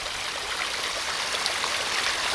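Steady stream of water flowing out to feed a backyard pond, a dense, continuous rushing wash heard close and loud with no voices.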